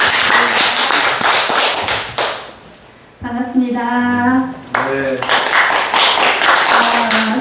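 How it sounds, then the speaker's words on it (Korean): An audience at a public lecture claps in welcome, a dense burst of applause that pauses while someone speaks briefly, then a second round of clapping resumes and carries on strongly. "그럼 박수로 같이 할까요?"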